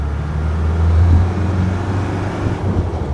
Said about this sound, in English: can really hear the turbo spool as it starts to accelerate